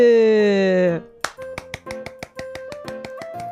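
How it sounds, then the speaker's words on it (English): A streamer claps by hand in place of sound effects, about ten sharp claps in a quick, uneven run following a spoken stretch. "I'm just gonna clap in real life"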